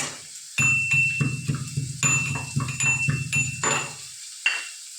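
Vegetables with garlic sautéed in a pan for a simple summer vegetable dish, a steady low sizzle under repeated spoon scrapes and stirring clatter, close and moderately loud, easing off toward the end.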